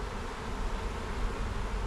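A swarm of honey bees being moved from a bucket into a hive box hums around a fresh piece of comb, with some bees fanning, a low continuous drone up close and steady.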